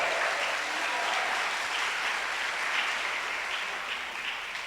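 A church congregation applauding steadily and energetically throughout, a dense, even wash of clapping with no letup.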